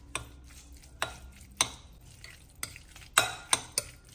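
A spoon working through a cheese filling with mayonnaise in a bowl, producing a series of sharp clinks and scrapes at irregular intervals, clustering faster toward the end, with no talk.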